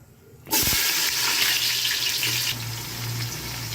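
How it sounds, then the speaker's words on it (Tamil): A loud, steady sizzle of onions frying in hot oil begins abruptly after a brief quiet moment and continues without pause. "இந்த வெங்காயம் வந்து நல்லா கோல்டன் ப்ரௌனில் கலரில் வந்து ஃப்ரை ஆகணும்"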